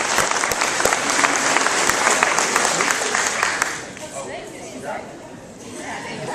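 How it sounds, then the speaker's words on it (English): Loud, dense applause fills the room for the Bartow County Tax Commissioner candidates at a debate, steady for several seconds, then it drops away abruptly, leaving scattered claps and murmuring voices. "give a round of applause to your Bartow County Tax Commissioner candidates"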